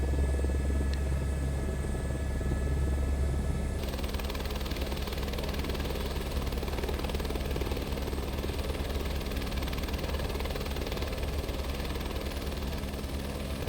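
A helicopter hovers and sets down on its skids in the MSFS 2024 flight simulator in windy conditions, a continuous loud rotor and engine drone that shifts in tone partway through, no talk.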